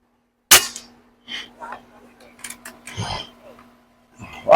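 A Barra 250Z air rifle fires FX hybrid pellets with one sharp, loud crack near the start, followed by low murmured talk and faint handling noises, then another sharp burst at the very end.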